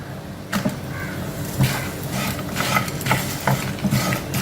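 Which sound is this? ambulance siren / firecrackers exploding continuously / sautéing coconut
sautéing coconut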